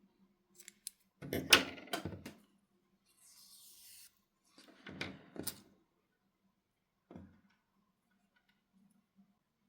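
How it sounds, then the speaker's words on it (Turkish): Scissors snip through crochet yarn a few times at close range: crisp, separate cuts with quiet gaps between them and a brief soft rustle. "bir miktar ip bırakarak ipi keselim"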